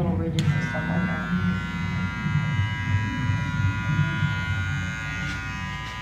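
A Wahl hair clipper buzzes steadily and close up during detail work on lines and ridges in a barber's cut, a continuous electric hum with a voice talking underneath.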